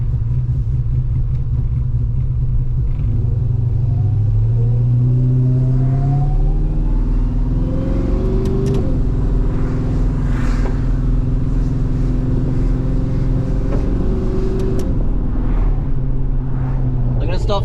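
An LS1 V8 engine in a VN Commodore idles roughly inside the car, a loud, heavy lumpy rumble with occasional revs rising and falling in pitch, while someone talks over it.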